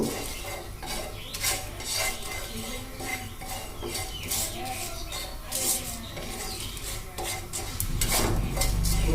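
Fennel seeds and ground cumin stirred lightly with a utensil in a flat griddle pan, giving soft repeated scraping and rubbing strokes against the metal, steady and close, with no talking.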